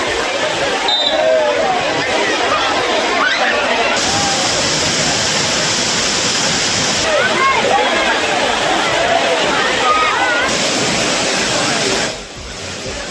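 A waterfall at Courtallam with tourists bathing gives off a loud, continuous rushing roar, with crowd chatter mixed into the steady wash of water.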